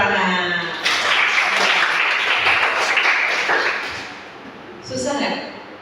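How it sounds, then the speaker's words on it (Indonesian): A classroom of students claps together in a burst that swells and then fades, with a brief second flurry near the end. "Tepuk tangan."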